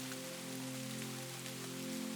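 Rain falling in the woods, a soft steady patter with light drops scattered over a low continuous hum, faint and unbroken.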